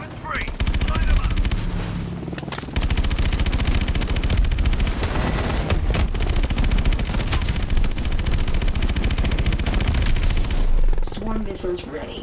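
Heavy automatic gunfire from Call of Duty Advanced Warfare hammers almost nonstop, loud rapid bursts with booming impacts, dropping briefly before resuming and fading near the end; voices can be heard amid the shooting.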